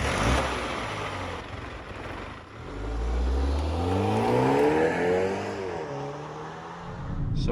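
MINI Clubman John Cooper Works engine driving on a road, loud and steady with rising and falling revs as it accelerates through gears, no talking.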